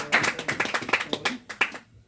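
A small church congregation in Baranoa, Colombia claps during a sermon, a sparse, loose run of individual hand claps over about two seconds before stopping into near silence.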